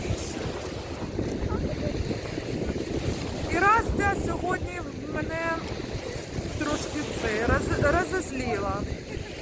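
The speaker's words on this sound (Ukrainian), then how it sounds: "Вітер, шторм все сильніше і сильніше." Strong storm wind roars steadily across the microphone with rough, broadband rumble at a seashore beach in Odesa; faint voices come through in short bursts partway through.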